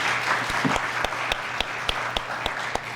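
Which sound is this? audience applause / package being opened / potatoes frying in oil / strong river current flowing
audience applause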